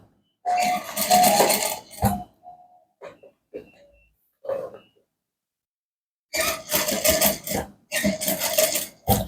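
A sewing machine stitches a welt pocket on chinos in two bursts of rapid, whirring stitching, with a few soft clicks and handling sounds in the quiet gap between them.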